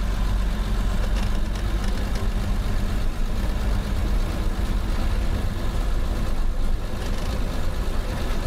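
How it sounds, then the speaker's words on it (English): An abandoned 1976 AMC Pacer engine idles at high revs, producing a constant, loud, low rumble that holds steady with no pauses. "I don't know why it's revving so high."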